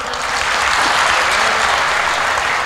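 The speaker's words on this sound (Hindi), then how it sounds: "लेकिन मैं चाहता हूं एक बार मन बता दो वापस ताली बजा के मेरा।" A comedy show audience breaks into loud, sustained applause, a dense wash of clapping that holds steady throughout without any talk over it.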